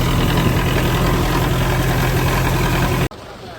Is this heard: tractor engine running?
yes